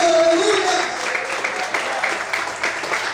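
A church congregation applauds at a morning service, a steady wash of clapping filling the room throughout, with a voice briefly audible over it at the start.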